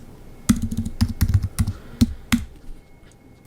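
Quick bursts of keystrokes on a computer keyboard, irregular clacks with short pauses, close and clear with no voices.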